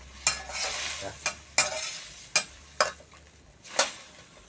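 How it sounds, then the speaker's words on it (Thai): Chinese sausage frying in plain water instead of oil, with a soft sizzle broken by about six sharp spatula knocks and scrapes against the pan. "ทอดมันเชียงไส้กรอกทอดด้วยน้ำเปล่า ไม่ไม่จำเป็นต้องไปใส่น้ำมัน"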